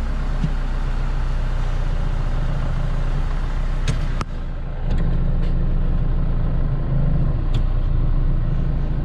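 A car with a freshly flushed clutch system rolls in reverse gear, its engine a steady low rumble throughout with a brief dip midway and a few faint clicks, no talking.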